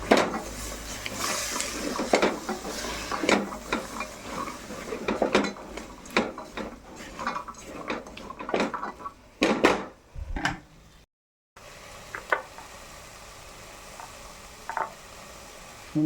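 A spoon stirs Kerala chickpea curry (kadala curry) in a pot, giving irregular close scrapes and clinks against the metal, with a brief silent break before softer stirring resumes.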